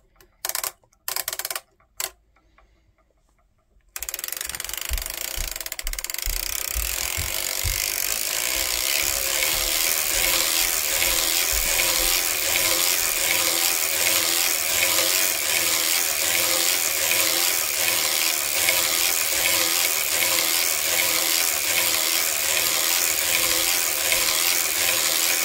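A circular sock knitting machine cranks out a 40-row hung hem, giving a steady, close, fast ratcheting clatter that runs on evenly for a long stretch after a few brief clicks and knocks at the start.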